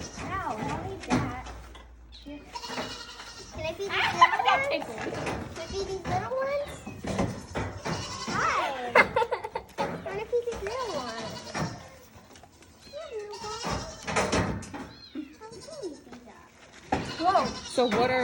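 Nubian and Nigerian dwarf goats bleat repeatedly at close range on a farm visit, the calls coming in irregular bursts mixed with steady talk from adults and children nearby.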